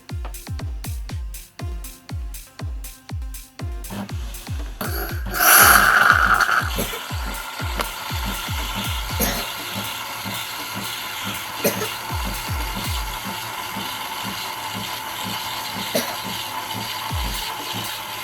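A Nespresso Lattissima Plus espresso machine pump rattles loudly in rapid regular pulses, then settles into a steady droning buzz with a hiss of steam bursting in partway through.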